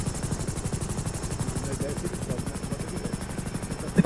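A helicopter flying and maneuvering in the GTA V FiveM video game, a steady rapid rotor chop with engine whine running the whole time under a voice.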